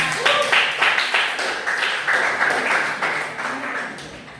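A classroom of schoolchildren claps hands in a repeated rhythmic pattern, several bursts of clapping at a steady pace, fairly close and moderately loud, with faint voices mixed in.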